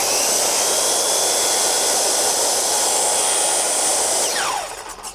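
A power saw makes a steady, loud, whining rip while cutting through wooden deck boards, holding constant for several seconds before winding down at the end of the cut.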